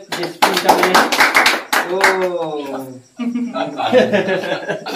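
A few people clap briefly for a contestant in an outdoor buttermilk-drinking challenge, the claps mixed with chuckles and talking voices that continue throughout.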